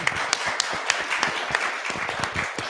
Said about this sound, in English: thank you to the audience for the clapping